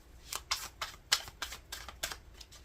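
Tarot cards are riffled and shuffled in a rapid series of crisp, papery flutters, roughly ten quick bursts in close succession, heard close up without talk.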